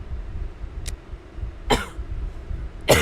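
A person coughs a few times close by, short sharp bursts spaced apart over quiet background noise.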